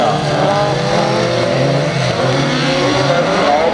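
A loud, steady race car engine accelerates at an autocross championship event in Schlüchtern, revving hard and continuously at close range with tire noise and no break.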